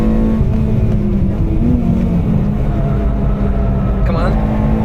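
A Honda Civic EP3 Type R engine on the Nürburgring, revving hard from inside the car with a droning note that drops and climbs again near the end; a voice talks over the engine.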